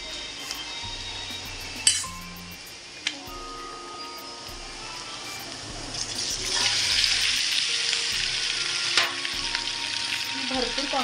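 Pasta added to a pan of sautéed onion, a few clinks and knocks at first, then a sizzle that swells and stays fairly loud, with occasional utensil taps and no talking.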